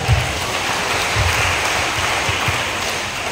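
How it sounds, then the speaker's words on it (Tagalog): Applause from a church congregation in San Pascual, Batangas, a steady, dense patter of clapping filling the whole moment with no voices over it. "Ang hina ng palakpak mo sa iyo."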